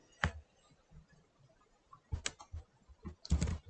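Typing on a computer keyboard while entering text into Excel cells: a few isolated key taps, then two short bursts of quick clicking, close and moderately quiet, with no talking.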